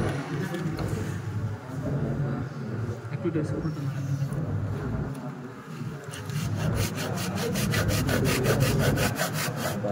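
A hand saw cuts a plastic wiring channel for house wiring, a close rasping scrape that turns into rapid regular strokes toward the end, with someone talking over it.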